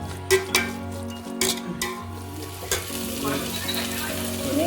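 Chicken noodles with vegetables and egg stirred in a hot pan: continuous close sizzling broken by several scraping, clattering strokes of a utensil against the pan.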